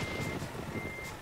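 Steady reversing beep from a truck in Euro Truck Simulator 2, a thin continuous tone held over engine rumble, fairly close and moderately loud throughout the short stretch.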